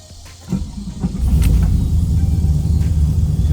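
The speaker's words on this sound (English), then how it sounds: "This is gonna be the cold start on this vehicle." A cold start on a car running a mail-order engine tune: the engine catches after about a second and settles into a steady, close, rumbling idle, with no talk.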